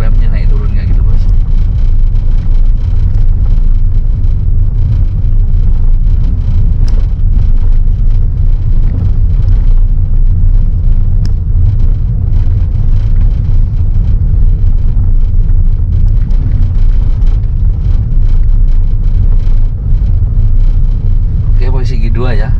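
A manual car engine in first gear with unsteady throttle, its revs rising and falling unevenly in a loud, continuous low rumble throughout.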